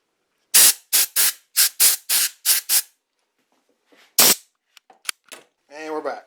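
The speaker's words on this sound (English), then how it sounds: "Let's hit it with a little bit of air and see if we can get it." Several sharp, loud bursts of compressed air blown onto aluminum small-block Chevy cylinder heads fire in quick succession, then a pause, one more blast, a few short puffs, and a brief hiss at the end.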